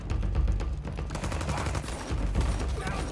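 Gunfire in the video game Mafia Definitive Edition comes as a string of rapid, sharp shots, sometimes overlapping, loud and close, with a brief lull before more shooting.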